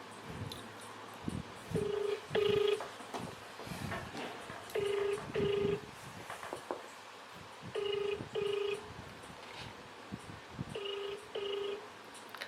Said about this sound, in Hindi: तो ये देखिए मैं कर रही हूँ रीवा को कॉल